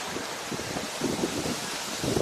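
Steady wind gusts sweep over an open stretch beside the water, a broad continuous rush with soft waves lapping underneath, loud and close to the microphone with no one talking.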